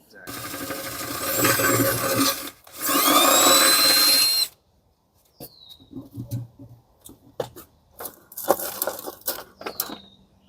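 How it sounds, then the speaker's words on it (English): Two loud bursts of a power drill whirring into the side of a planter, followed by scraping, clicks and handling noises with brief voices nearby. "drilling a hole on the side of the planter"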